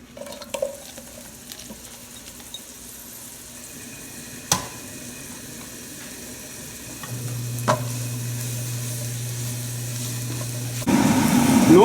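Mushrooms cooking in olive oil in a hot pan over medium-high heat, a low steady sizzle with a few sharp clicks of utensils against the pan, the frying growing louder and brighter near the end.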